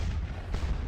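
Artillery guns boom in the Napoleonic battle game Scourge of War: Waterloo at Quatre Bras, a heavy low rumble lasting under a second with no talk over it.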